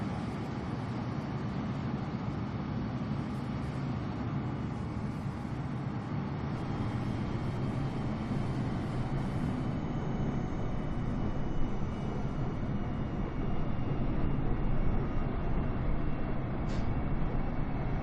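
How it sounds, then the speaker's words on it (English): A steady, droning roar of many airliners and fighter jets in Microsoft Flight Simulator 2020, a broad continuous engine rumble that swells slightly toward the end, with no talk. "A freaking army here of airliners and fighter jets."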